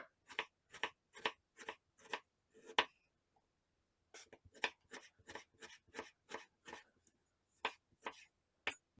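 A knife cuts halved tomatoes into small slices on a cutting board, giving close, quiet, evenly spaced taps in two runs separated by a brief pause, with no talking.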